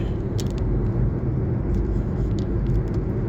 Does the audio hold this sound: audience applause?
no